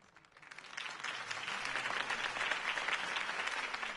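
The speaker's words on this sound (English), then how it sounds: "could have heard that applause" Crowd applause in the video game Batman: The Telltale Series, swelling from quiet to a sustained, dense roar of clapping that holds steady to the end.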